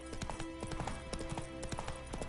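Hooves of the horse Roach in The Witcher 3 clip-clop in a steady rhythm, mixed with game ambience in a short stretch.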